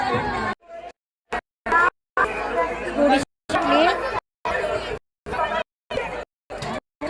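Dense crowd chatter fills the Sant Tukaram temple at Dehu, a steady babble of many voices nearby, broken by several short cuts to silence.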